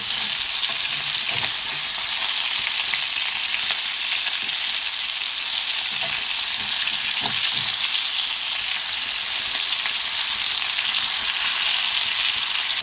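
Tol fish frying in a pan, a loud, dense, continuous sizzle of hot oil heard up close, with a few soft clinks and bumps under the hiss and no talking.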